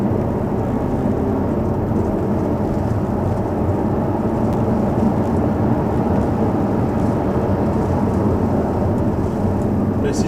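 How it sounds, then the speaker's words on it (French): Jaguar car engine downshifting from fifth to fourth gear with paddle shifters on a slightly wet road, a steady loud broadband rumble of engine and road noise running throughout with no distinct rev blip standing out. "Je vais passer en mode palette. Donc là, je suis en 5. Je mets la 4."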